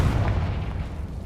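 A Confringo blasting spell explodes in Hogwarts Legacy, a low, dense rumbling boom that fills the whole short moment without a sharp crack, loud and close.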